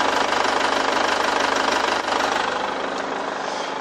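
The 2.0 diesel engine of a 2013 full-size 7-seater car idles with a steady, even clatter, close and continuous throughout, with no talk.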